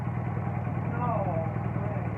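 A Honda EU3000 generator cold-starting after three months of sitting, with a steady, close, loud engine drone and chugging hum. A voice is faintly mixed in.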